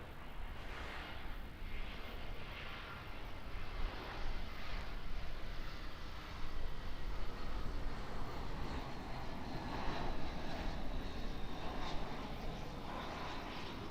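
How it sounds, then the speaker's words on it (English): An Air New Zealand Airbus A320 jet coming in to land at Auckland, a faint, distant and steady engine drone with light gusty texture throughout. "Alright, A320 coming in now of Air New Zealand."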